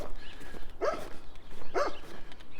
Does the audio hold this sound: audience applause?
no